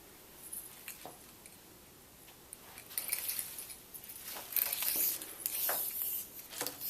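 A small tape measure slips away during fabric pinning for a tote bag, giving a scattered run of faint light rattles, taps and clatters that grow a little busier toward the end.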